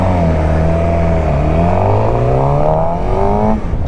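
A supersport motorcycle pulls away from traffic lights, its engine loud and close, rising steadily in pitch through one gear with a faint dip as revs shift near the end, no talk over it.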